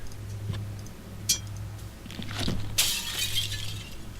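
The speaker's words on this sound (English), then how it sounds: "You rear back and strike the mirror with the hammer. The glass falls away from the frame, revealing a door behind it." A glass mirror shatters as it is struck with a hammer in the Shadowgate video game, a sharp crash that bursts into scattering shards over a steady low ticking.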